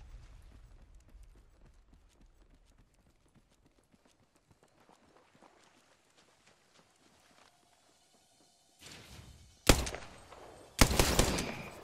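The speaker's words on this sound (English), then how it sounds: "Shot a cargo bot." Gunfire from Apex Legends as a cargo bot is shot, a few loud broadband bursts near the end following quieter scattered game sounds.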